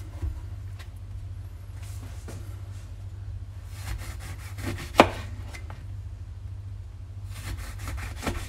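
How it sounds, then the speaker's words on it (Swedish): A knife slices oranges for a sangria punch: scattered quiet cutting strokes, one sharper thunk near the middle, over a steady low hum in a calm kitchen. "Resten av apelsinerna ska vi skiva och lägga åt sidan."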